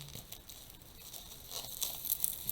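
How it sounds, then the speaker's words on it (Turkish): A plastic bag crinkles and rustles softly as a Logitech G102 gaming mouse box is pulled out of it, with light irregular crackles growing a little louder toward the end. "kutuya zarar vermeden poşetinden çıkartmaya çalışıyorum"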